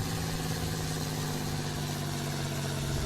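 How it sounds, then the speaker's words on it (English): A two-stroke truck engine in a truck-driving video game drones steadily at a constant pitch throughout, a buzzy idle with no clear rise in revs and no voices. "But I believe these were 2-stroke engines."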